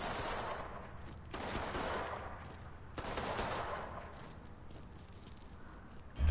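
Bursts of gunfire ring out in the Mafia 3 video game, several rough rattling volleys in quick succession at moderate distance, fairly faint and spread over a few seconds.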